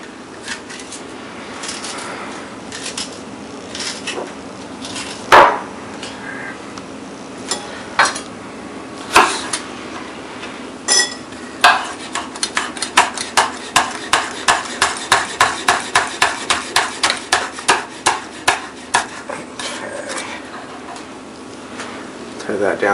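A knife works through grouper on a cutting board, giving a run of sharp, evenly spaced taps and scrapes that quicken into a steady rhythmic series, close and fairly loud over a faint room background.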